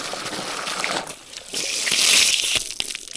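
Water splashing and sloshing as an animal drinker is refilled during a morning farm routine with hens. The rushing noise is close and steady, swelling louder toward the middle and end, with no talk.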